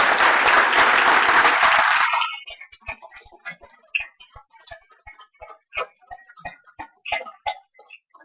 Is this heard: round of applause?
yes